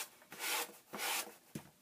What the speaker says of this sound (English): I'm going to sand the edge rather than try and use the knife to cut or anything